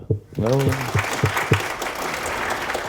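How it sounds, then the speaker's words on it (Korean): Audience applause fills the room at a lecture, steady and moderately loud, while a voice speaks over the start of the clapping. "우리 성공을 위해서 박수"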